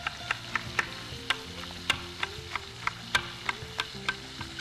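Spring onion sizzles in a frying pan beside sea bream, a steady soft frying hiss broken by regular clinks of a utensil stirring, close and with no talking.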